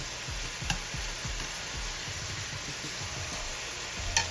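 Chicken fajitas sizzling in a pan as they are flipped and stirred, a constant crackling hiss with low scraping and knocking strokes underneath, close by.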